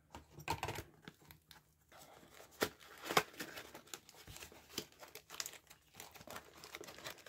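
Lock pick set being unwrapped from its mailed packaging, with irregular crinkling and crackling of plastic and paper, sharp rustles and snaps scattered over several seconds, fairly close and moderately quiet, with no talking.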